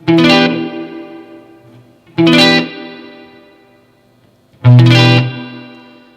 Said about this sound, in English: I've just put some random settings into the spring reverb